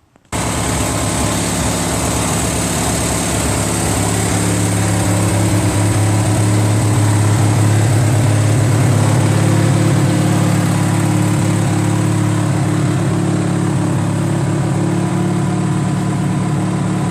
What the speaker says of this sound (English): That is a beautiful tractor.